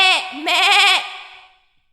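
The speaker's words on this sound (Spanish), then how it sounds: "Quieren oír, la oveja hace así." A sheep bleats loudly and close within a Spanish children's song about Noah's ark, one short bleat followed by a longer, wavering one that fades out.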